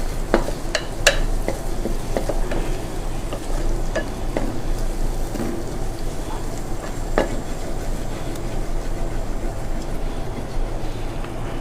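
Jackfruit biryani masala with halved green chillies fries in a pan, a steady close sizzle with scattered clicks and scrapes of stirring running throughout, with no voices.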